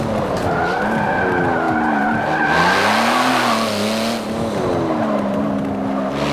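Car tires skidding and squealing through a street drift in Forza Motorsport 7, the engine revving and wavering underneath. Loud and close throughout, with the screech rising and falling across a few seconds and no talk.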